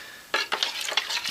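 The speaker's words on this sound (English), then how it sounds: "I'm going to get this mixed up good" A spoon scrapes and clinks rapidly against a container while stirring a thickened, microwaved cornstarch mixture, a close, quick burst of rhythmic strokes with no voices.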